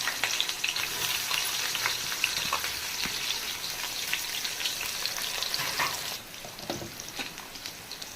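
Garam masala and onions frying in hot oil for a chicken fry piece biryani, a steady, loud, close crackling sizzle throughout that eases slightly partway, with no talking.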